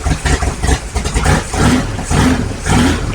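A 1955 Chevy with a big block V8 runs just after its first start, a rough, loud idle with surging, uneven pulses close by and no talking.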